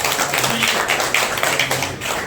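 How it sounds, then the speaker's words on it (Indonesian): Protest crowd applauding after a tax increase is cancelled in Pati, a dense continuous patter of many hands clapping, steady and fairly loud throughout with no break. "Tepuk tangan ini."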